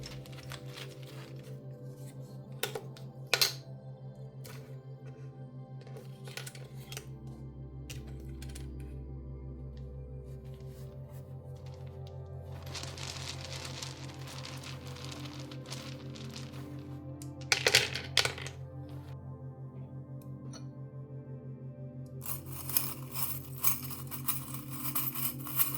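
Small charms and dice shaken and tossed, giving scattered clicking rattles and clattering bursts, loudest in a dense run near the end, over a steady low hum with no talking.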